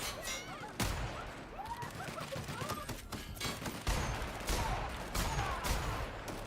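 Rapid bursts of gunfire in The Outer Worlds video game, several sharp loud volleys in quick succession over a dense layer of combat noise.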